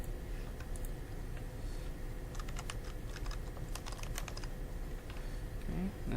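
Typing on a computer keyboard while naming a brass hinge assembly in design software, with bursts of quick clustered keystrokes over a steady low room hum, fairly close and moderately loud, no talking.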